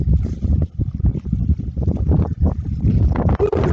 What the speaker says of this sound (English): The wind is strong out here on the point.